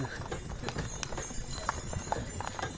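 Black Percheron horses' hooves clip-clopping in a steady rhythmic trot in winter, moderately near, with faint background noise and no clear talking.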